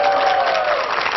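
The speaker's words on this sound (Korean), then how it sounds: "박수 좀 주세요." An audience at a lecture claps, a brief burst of dense applause that holds steady for about a second.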